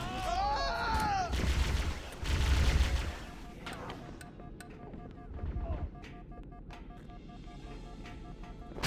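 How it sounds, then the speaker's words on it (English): Gunfire in the game Halo CE on Legendary difficulty, a dense burst of shooting and explosions in the opening seconds that gives way to quieter game sounds and scattered effects. "Taking fire! We could use a hand!"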